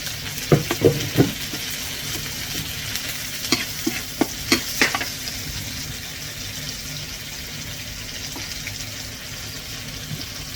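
Rice vermicelli noodles are stir-fried in a pan with egg and sauces, a continuous sizzle broken by a cluster of clattering utensil scrapes and taps early on, then settling into steady frying; no speech.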